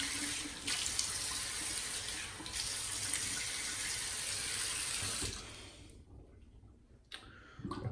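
Tap water runs steadily into a sink for about five seconds while someone wets their face before a shave, then the flow stops and leaves quieter splashes and dripping.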